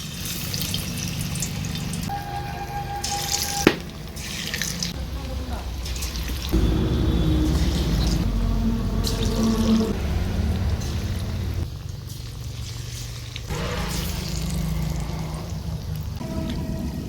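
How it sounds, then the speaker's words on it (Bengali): Cauliflower pakora fries in hot oil with a continuous crackling sizzle that shifts in intensity as pieces go in, while a person talks over it. "তেলটা গরম হয়ে গিয়েছে। এবার আমি এক একটা করে ফুলকপি এখানে ছেড়ে দেব।"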